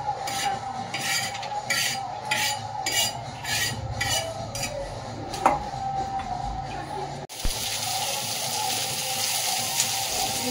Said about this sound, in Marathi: परत आता कांदा आणि टोमॅटो त्यावर परतून घेते।